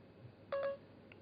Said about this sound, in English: Calling Anthony, mobile.